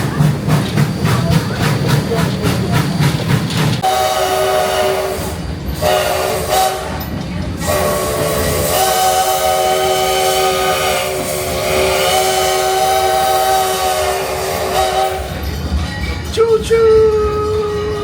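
A heritage train at Railtown 1897 State Historic Park rumbles nearby, then sounds a long, loud sustained horn blast followed by a second shorter blast, with people talking faintly around it.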